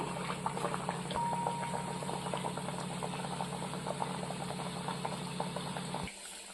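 Ragi burelu, round millet-flour sweets, frying in hot oil, giving a steady close bubbling sizzle with dense crackle that runs unbroken for about six seconds before cutting off abruptly.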